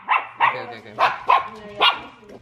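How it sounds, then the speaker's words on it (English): A puppy barks close by in a series of about five or six short, high yips at a steady uneven rhythm, with faint talk around it. "He's barking."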